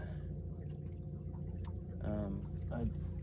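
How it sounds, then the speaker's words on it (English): A small, quiet electric trolling motor pushes a fishing boat along at slow trolling speed, giving a steady low hum with water sloshing against the hull throughout. "this little motor does really well. It's nice and quiet."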